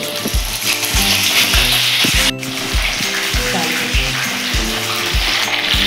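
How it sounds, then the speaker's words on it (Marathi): Cornflour-coated corn kernels deep fry in hot oil with a constant hissing sizzle, partly covered by loud rhythmic background music with a steady thumping beat. "आता आपण इकडे आपले तेल देखील गरम झालेले आहे, आपण हे थोडे थोडे करून टाकून फ्राय करून घेऊया।"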